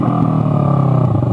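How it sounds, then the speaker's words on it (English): A cold motorcycle that has not warmed up yet runs with a loud, steady exhaust rumble. Faint pops from the exhaust sit under the engine drone, recorded close. "Get a little backfire off of the exhaust."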